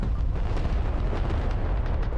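Munitions exploding in the war video game Broken Arrow, a continuous heavy low rumble of blasts and debris that stays loud and dense for the whole moment, with no talking.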